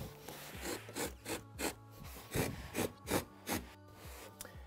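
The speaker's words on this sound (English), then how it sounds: "these can be cut down very easily in a straight line through the felt using a trimming knife" A trimming knife slices through felt wall panelling in a series of rhythmic, rasping scrapes, close up and moderately quiet, with no voices over them.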